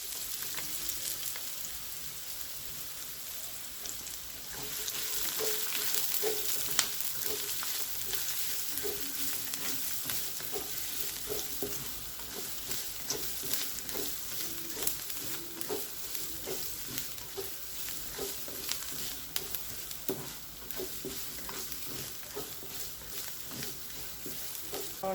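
Garlic and onions fry in a pan with a steady, dense sizzle that runs the whole time, broken by occasional stirring scrapes and light utensil clicks, with no voices.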